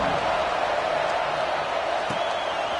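Steady stadium crowd roar at a college football game in EA College Football 26, with TCU at Oklahoma State before a kickoff, a continuous dense wash of cheering with no clear peaks.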